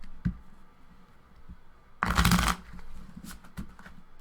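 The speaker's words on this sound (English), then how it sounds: "Let's give this a good shuffle." A deck of tarot cards is shuffled by hand during a psychic reading. A short, crisp riffle burst stands out, with a few softer card taps and handling sounds around it in a quiet room.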